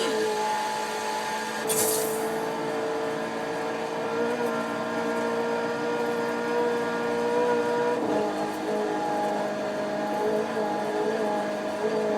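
A Ferrari 488 GTB engine drones steadily while driving in Forza Horizon 4, a sustained mid-pitched hum with a brief sharp hiss near the start and a slight pitch dip later.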